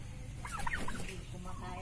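A turkey gobbles once in a quick, warbling burst, moderately near, over a low background rumble.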